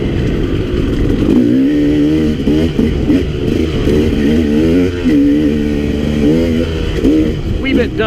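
A KTM 300 dirt bike rides along a dusty single track trail, its engine droning steadily and close throughout, with rising and falling revs as the rider throttles through the trail.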